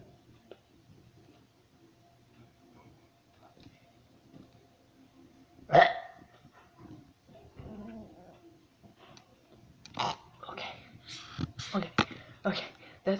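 A person burps with one loud, abrupt belch partway through, followed by several shorter bursts close to the mic, with voices talking around them.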